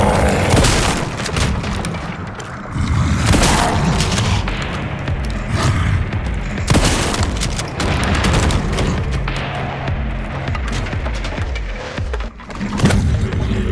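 Shotgun blasts and heavy combat effects in the video game Resident Evil Requiem: loud repeated booms and thuds over a dense, continuous game soundtrack, close and sustained for the whole stretch.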